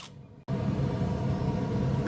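A wire brush polishes electric motor shafts during a motor repair, starting after a brief silence as a loud, steady grinding whir that runs continuously.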